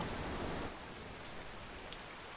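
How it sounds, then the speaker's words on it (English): Steady hiss of rain falling in the Tales of Berseria video game, a dense broadband wash with a slightly heavier burst at the start, without any voice. "And it's raining."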